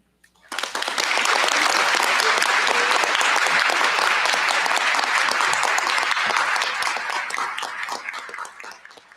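A room full of people applauds at a UC Berkeley physics commencement, with dense, sustained clapping that starts abruptly, holds strong, then slowly thins toward the end.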